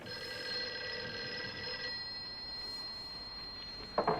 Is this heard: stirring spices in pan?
no